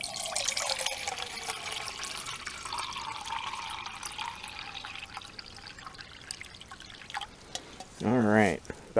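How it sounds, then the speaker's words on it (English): Water is poured into a pot on a gas camp stove on a winter hike, a steady, quiet trickling stream that runs for several seconds before a short, louder sound at the end. "we're going to go ahead and pour the water in"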